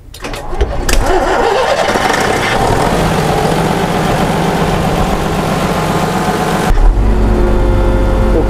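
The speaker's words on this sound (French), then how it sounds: "là on entend bien que c'est un 6 cylindres et qu'il y a de la cylindrée" A large six-cylinder diesel truck engine in a Vervaet machine cranks and catches right away, then settles into a loud, steady, rumbling idle close by, with a brief shift near the end.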